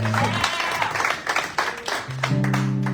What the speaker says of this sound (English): so give him a little bit of applause.